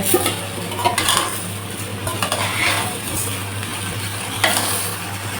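Spiced rice, lentils and beef frying together for khichuri, stirred with a spoon that scrapes and clinks against the pan over a continuous close sizzle.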